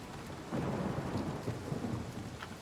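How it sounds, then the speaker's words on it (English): Rain and thunder in The Elder Scrolls IV: Oblivion: a low rolling thunder rumble swells and lingers over steady hissing rainfall. "I think either the storm's clearing up or this game is just, this area is particularly suited for rainy weather."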